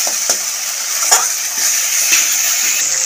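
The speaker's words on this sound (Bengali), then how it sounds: "ফের নাড়িয়ে একটু ভেজে নেব।" Onion, ginger, garlic and tomato paste fry in a pan while being stirred, a bright steady sizzle broken by several scraping spoon strokes against the pan, close and loud.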